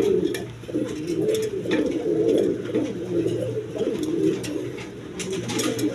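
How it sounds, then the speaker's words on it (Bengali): A pair of red shouking pigeons coo in low, steady, overlapping rounds close by, with a few faint chirps from other birds mixed in. "দর্শকবৃন্দ এখানে এক পেয়ার রেড কালার শৌকিং কবুতর আছে"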